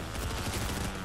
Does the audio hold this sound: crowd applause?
no